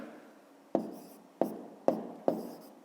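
Pen strokes on paper as digits are written by hand during a grade-5 maths exercise: four or five short scratchy marks spaced about half a second apart, close and fairly quiet, with no talk.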